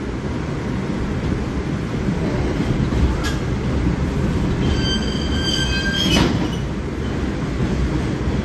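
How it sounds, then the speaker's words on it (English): An R142 subway train on a New Lots Avenue bound 4 line rumbles steadily along the tracks, with metallic wheel squeals rising partway through; no one speaks. "This is a new Lux Avenue bound 4 train."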